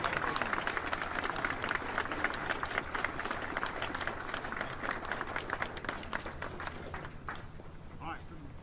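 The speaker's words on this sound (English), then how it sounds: "Give them a round of applause, will you?" Applause from an audience at a military oath of enlistment ceremony, a dense, steady wash of clapping that holds loud throughout, with voices mixed in and fading slightly at the end.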